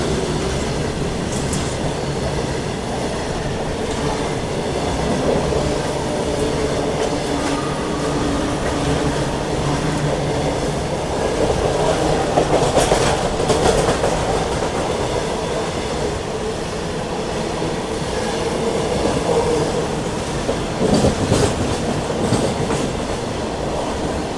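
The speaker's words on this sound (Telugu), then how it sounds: "మన ట్రైన్కి ఇంకో goods train cross Pagidipalli junction దగ్గర" A goods train crosses near Pagidipalli Junction, heard from a passing passenger train as a steady rumble with clickety-clack wheel beats and occasional squeals, continuous and fairly loud throughout.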